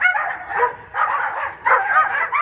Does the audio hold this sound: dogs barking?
yes